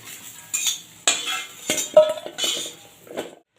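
Metal utensils clink and scrape against a pan in several distinct strokes, lifting fried taro pieces, close and fairly loud, with a faint sizzle between them.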